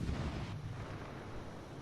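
Naval gun salvos from a T-61 destroyer in World of Warships, a heavy rumbling boom with rolling low-end wash, steady and dull throughout without speech.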